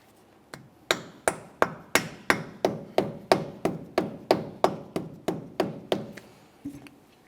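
A brake rotor on a 2001-2005 Ford Explorer Sport Trac is being driven into position with a hammer: about sixteen sharp metallic strikes in an even rhythm, close and loud, then a couple of softer taps to finish.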